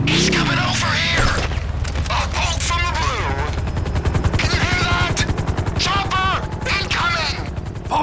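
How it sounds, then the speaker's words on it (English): A helicopter in the GTA V story mode video game chops rhythmically through a dense, loud firefight of rapid gunfire and explosive booms, while voices shout over the chaos. "Always hated that chopper."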